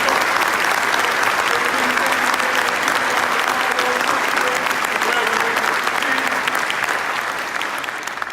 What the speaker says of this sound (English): applause, please, for our departmental compensation